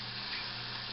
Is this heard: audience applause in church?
no